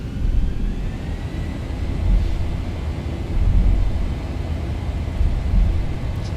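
Boeing 737 jet engines at takeoff thrust in X-Plane 12, a loud, deep, continuous roar with a faint high whine above it, swelling slightly in waves and heard alone.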